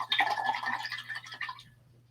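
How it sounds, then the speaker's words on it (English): A round paintbrush is swished through water in a rinse jar while painting flowers: a close, splashy rinse lasting about a second and a half that trails off into quiet, with no talking. "I'm rinsing out my round brush."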